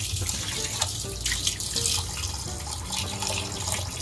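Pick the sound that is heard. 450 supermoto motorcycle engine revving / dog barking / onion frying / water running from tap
water running from tap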